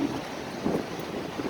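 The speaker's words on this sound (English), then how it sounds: "Oh my god, it's so much wind." Strong outdoor wind buffets the microphone in a continuous low rumble with gusty surges during a field session testing a Chinese B2/B3 air rifle. No voices are heard.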